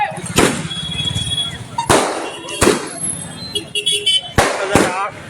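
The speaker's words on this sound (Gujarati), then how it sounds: "આતશબાજી કહેવાય આને" Several sharp, loud firework bangs at irregular intervals during a Jalaram Bapa birth anniversary celebration in Amreli, with people talking between and over the blasts.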